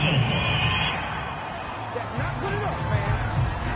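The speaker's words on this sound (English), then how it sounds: "This home crowd, they're happy with that call." Home crowd in a football video game cheering after a penalty call, a steady broad roar with scattered whoops filling the background throughout.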